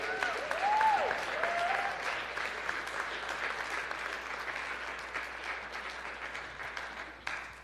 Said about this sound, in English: Give our new members a round of applause one more time.